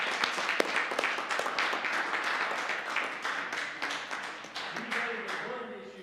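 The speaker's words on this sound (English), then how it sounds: "let's give them all a round of applause" A room full of people applauds award winners at a council meeting, dense continuous clapping at moderate distance that holds steady and thins slightly near the end.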